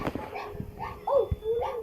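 A dog in a video game gives short whimpering yips and barks, several brief calls close up, with some speech nearby.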